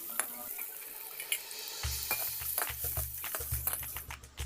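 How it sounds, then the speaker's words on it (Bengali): Soybean chunks fry in hot oil in a pan while being stirred, a soft sizzle under sharp clatters and scrapes of the spoon against the pan, growing busier toward the end. "এবার ওই তেলের মধ্যে সয়াবিনগুলো নেড়ে চেড়ে ভেজে তুলে নিচ্ছি।"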